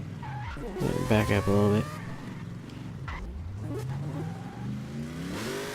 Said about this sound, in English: we gotta do a burnout first